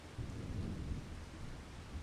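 Steady rain and low rumbling thunder fill a video game scene, a continuous soft wash of noise with no voices.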